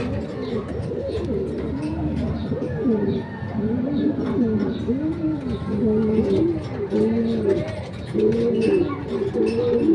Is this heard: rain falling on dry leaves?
no